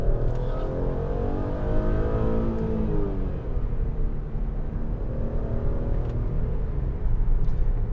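2012 Mercedes ML350 SUV with about 150,000 miles accelerating to pass, a steady, moderate engine hum and road rumble from inside the cabin, rising gently in pitch with no talking.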